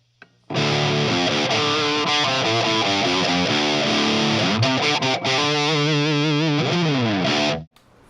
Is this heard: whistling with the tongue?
no